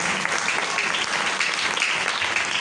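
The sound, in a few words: congregation applauding loudly in church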